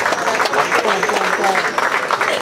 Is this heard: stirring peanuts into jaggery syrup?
no